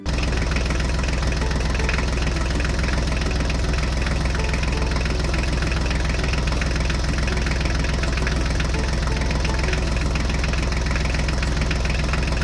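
A Mahindra tractor engine runs at a steady idle, loud, close and rhythmically knocking, continuous and alone without any talk.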